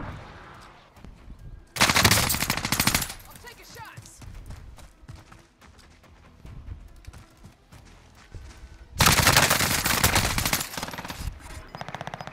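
Heavy machine gun fire in Call of Duty: Modern Warfare, two loud sustained automatic bursts separated by quieter gameplay sounds and player chatter.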